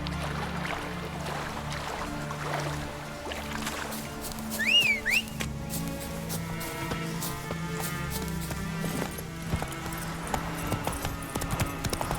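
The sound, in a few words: horse hooves clip-clopping in video game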